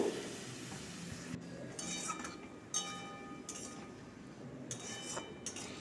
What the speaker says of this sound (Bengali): সেই সর্ষে বান্নাটা দিয়ে দেব একটু নাড়াচাড়া করবো